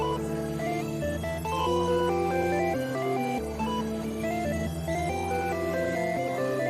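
A synthesizer lead melody, made in FL Studio 21, plays over layered chords and bass, notes shifting every second or so in a dense, steady electronic mix.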